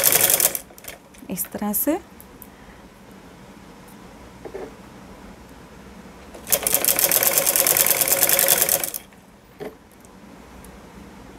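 An electric sewing machine stitches a pocket onto a salwar in two bursts, a short stuttering run and then a longer steady whir, with someone talking quietly in between.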